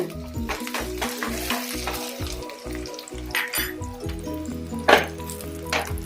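Onions fry in a pan for goat intestine gravy with a bright, crackling sizzle, punctuated by rhythmic spoon scrapes and a sharp clank near the end, no voices.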